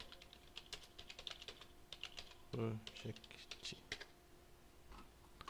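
Typing on a computer keyboard, a rapid irregular run of light key clicks close by, under someone speaking Portuguese.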